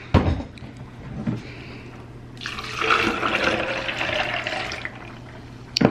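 Two cups of water pour into a pot for a vegan mac and cheese, a steady splashing stream that rises partway through over a low background hum, with no talking.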